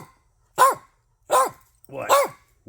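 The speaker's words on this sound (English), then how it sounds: "We got a puppy that he's definitely ready to head home." A puppy barks three times in short, sharp bursts roughly evenly spaced, loud and close, with a brief yip-like quality and no talking over it.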